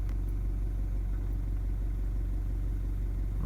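A Toyota diesel engine idles at about 700 rpm after an injector replacement, giving a steady, low, even rumble that stays constant throughout with no revving.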